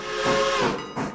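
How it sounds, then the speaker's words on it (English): A steam train whistle sounds close and loud for about half a second, then a short hissing burst of steam follows. "playing whistles, playing with trains."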